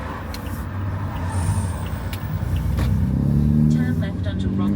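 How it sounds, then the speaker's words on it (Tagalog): A car approaches and passes on the right on a residential street, its engine swelling to a near, loud rumble; a separate voice is heard partway through, in addition to a navigation prompt. "parating na sasakyan sa ating kanan."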